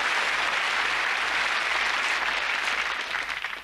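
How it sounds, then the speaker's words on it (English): A British TV game show studio audience claps in a steady, even burst of applause, fairly soft and continuous, with no voices over it, tapering off near the end. "Nice clap for me."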